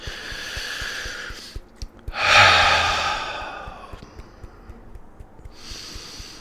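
A slow, deep breath taken close to the mic during a calm tapping session, one long airy inhale swelling then fading, framed by soft rustles and small taps, with no talk.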